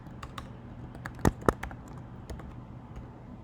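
Computer keyboard typing in a paint-program demo: a few scattered soft key taps, with two sharper, louder clicks near the middle, over a low steady background hum.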